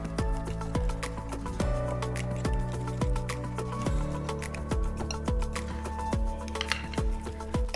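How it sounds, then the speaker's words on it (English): Soft drained sweet potato squelches as it is mashed, wet squishy presses repeating in a steady rhythm close up, with a low tonal hum underneath and no talking. "So we have to mash up our sweet potato that's been drained out nice and soft."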